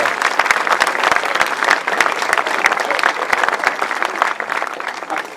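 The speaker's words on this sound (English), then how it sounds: "big round of applause for Cameron Taylor" Crowd at the European grasstrack solo final meeting applauding a young rider, a steady, lively patter of many hands clapping, moderately loud and continuous with sharp individual claps throughout.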